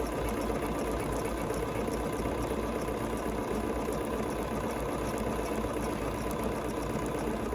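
A Bernina 790 Plus sewing machine stitches a decorative flower pattern with a steady, continuous mechanical hum and rapid needle clatter, heard alone.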